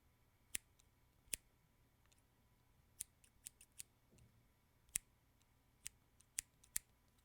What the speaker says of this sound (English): These are my scissors that I'm using.